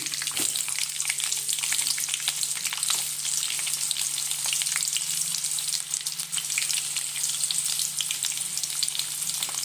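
Garlic and onion frying in a pan for a horse gram dish: a loud, steady, close sizzle that hisses on without a break, with no voices over it.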